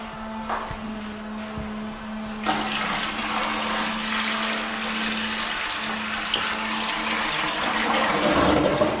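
Water poured into a newly installed toilet bowl flushes it with a rushing, gurgling surge. A steady low hum runs underneath, and the splashing swells again near the end. No one speaks.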